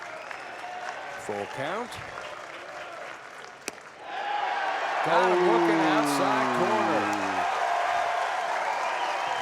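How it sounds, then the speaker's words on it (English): Baseball crowd at a Minnesota vs. Oregon State college game breaking into applause and cheering, a swelling roar that rises and holds, with broadcast commentary over it. "Here comes the crowd into the game."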